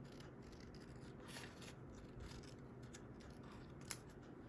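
Scissors snipping the flaps off a paper candy box, a series of quiet, close crisp cuts and light scrapes, with one sharper snip near the end and no talk.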